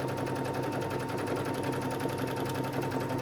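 A sewing machine zigzag-stitches along the raw edges of knit fabric for a tank top, a steady fast mechanical whir with rapid needle pulses running continuously and close by.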